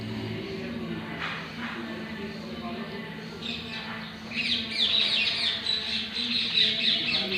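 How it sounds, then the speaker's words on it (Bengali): Birds squawk and chirp at a distance in a temple garden, growing busier and brighter toward the end, over a steady outdoor hum with possible faint talk. "পাখির ডাক শুনতে পাবে"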